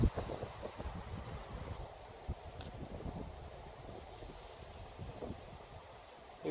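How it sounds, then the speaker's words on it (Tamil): Wind gusting across grass on a mountain hike to the peak of Kabaragala in Dolosbage, a low rumbling buffet on the microphone with a soft rustle, steady and fairly faint. "இது காற்றுற சத்தம், காற்று இந்த புல்லில் போட்டு இந்த புல் ஆடுற சத்தம் இது."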